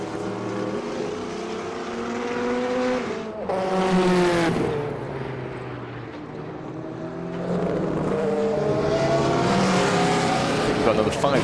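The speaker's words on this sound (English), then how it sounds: "the car rounding Surtees now is one of the most famous, one of the most iconic. That's the Rothmans Porsche 962" A Rothmans Porsche 962 Group C race car rounds Surtees on circuit, its engine rising to a loud roar, dropping briefly, then swelling again as it passes near, with faint talk underneath.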